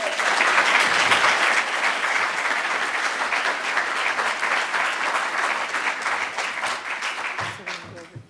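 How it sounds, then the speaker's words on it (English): Lecture audience gives Dr. Fenwick another round of applause, a loud, sustained burst of clapping that gradually thins and tapers off toward the end, with a few voices mixed in. "Can we give her another round of applause"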